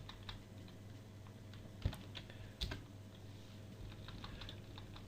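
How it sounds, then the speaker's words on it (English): Soft scattered clicks of keys on a computer keyboard, with two slightly sharper taps among light patter, faint and close in a quiet room. "There is a keyboard shortcut for this and I'll be using that."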